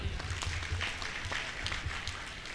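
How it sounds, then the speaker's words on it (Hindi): Audience applause at an award ceremony honouring meritorious students, a brief burst of many hands clapping in a steady patter, moderately loud and close, with no voices over it. "हम आपसे सभी से ये विनम्र निवेदन करते हैं कि उनके सम्मान में एक बार जोरदार तालियां हो जाएं।"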